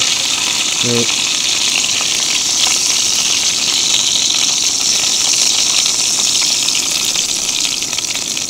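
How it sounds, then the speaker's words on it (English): Steady hissing sizzle of food frying in a hot pan, continuous and fairly close, with a brief knock near the start. "One more quick sizzle."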